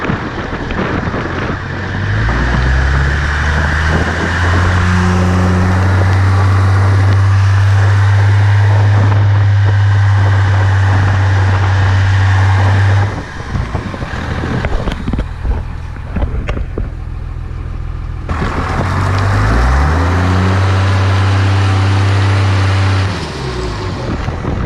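A stock 12 valve Cummins dually truck with a 5-speed gearbox churns through mud. The diesel engine revs hard and holds a high, droning pitch, drops off briefly midway, then revs up again, loud and close.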